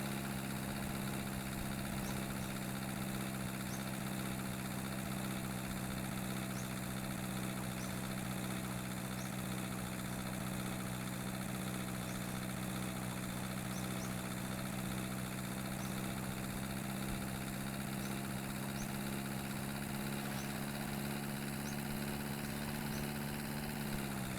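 Diesel car engine in the video game The Long Drive, idling steadily with a constant low droning hum and faint mechanical whine, continuous and unchanging throughout, with no talking.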